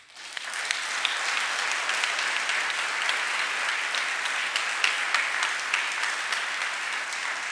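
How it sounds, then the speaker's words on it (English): An audience at an award ceremony applauds continuously, a dense wash of clapping that starts quickly and holds steady at moderate loudness to the end. "join me with a big round of applause to them"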